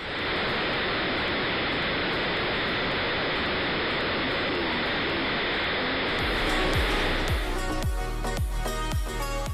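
Theme park ride flood effect at Universal Studios Hollywood, thousands of gallons of water rushing into a station: a loud, steady roar of gushing water that continues throughout, joined near the end by heavy rhythmic thuds and clanking.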